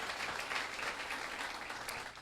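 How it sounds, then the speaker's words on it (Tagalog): Audience applause at a seminar on essentials to success, steady, dense clapping from a crowd sustained throughout, moderately distant and without pause. "Palakpakan nyo naman yon."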